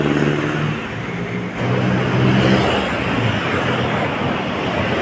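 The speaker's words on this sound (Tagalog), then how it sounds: "may mga sasakyan, ang daming sasakyan." Heavy road traffic of many cars at Arroceros by the Pasig River esplanade in Manila, a loud continuous roar of passing vehicles with engine hum, no speech.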